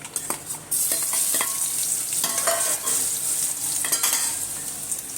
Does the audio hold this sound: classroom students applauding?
no